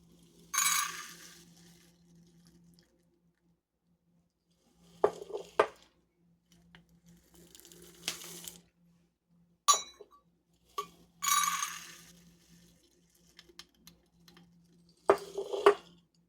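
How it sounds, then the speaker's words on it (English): Whole organic English peas pour into a glass jar in several separate bursts of dry rattling clinks, close and fairly soft, with quiet pauses between pours and no talking. "I'm going to add in some whole organic English peas"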